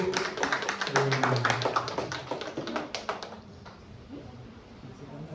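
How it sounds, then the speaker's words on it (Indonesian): Classroom applause during a teacher reflection session, a dense burst of many hands clapping that builds quickly, then thins out and fades over the last couple of seconds, with some voices mixed in. "Tepuk tangan untuk Bu."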